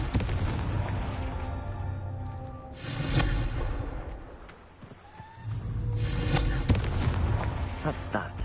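Confringo fire spell cast in the Hogwarts Legacy video game, a whooshing blast followed by a rolling boom, then a second surging explosive burst a few seconds later, under continuous game background sound.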